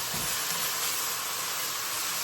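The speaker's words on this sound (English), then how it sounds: "as you can see, we're cooking now, we're sizzling" Constant loud sizzling hiss from a hot pan, steady and unbroken, close up.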